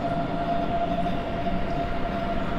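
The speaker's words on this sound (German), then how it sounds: "das ist also unser Zug immer noch." A Class 425 electric multiple unit runs on the Düren–Merzenich line in Train Sim World 2, giving a steady, continuous rumble of wheels and motors with a constant tonal hum, close and even, with no talking.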